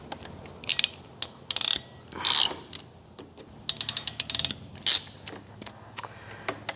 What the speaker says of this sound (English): But let's go ahead and clamp this down.